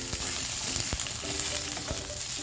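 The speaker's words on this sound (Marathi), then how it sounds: "थोडं तेल टाकूया आणि मसाला परतून घेऊ छान वाटण्यासाठी असं" Green chillies, cumin and masala frying in oil for misal pav, a dense continuous sizzle with occasional stirring scrapes, close and steady, no speech.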